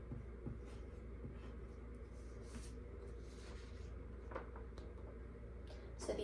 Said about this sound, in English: Let's write actor on our board